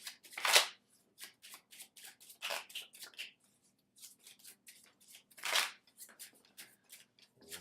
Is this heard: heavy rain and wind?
no